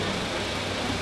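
A Dort Touring car with a 2.3 litre engine idling at a classic car event, a steady low rumble heard nearby with no voices over it.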